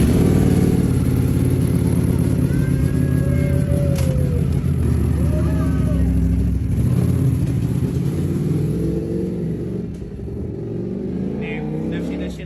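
A Ducati Panigale V4 motorcycle engine runs loud and close, holding a steady idle rumble with rising revs. Voices talk over it throughout.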